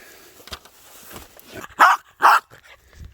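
A dog gives two loud, close barks in quick succession after a stretch of quieter shuffling and low sounds, with no talk over the barks.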